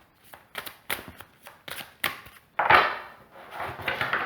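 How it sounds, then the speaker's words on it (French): Oracle cards being shuffled by hand, a series of quick riffling bursts and papery flutters in an irregular rhythm, close and fairly quiet, with no talking. "je vais remélanger le jeu un petit peu"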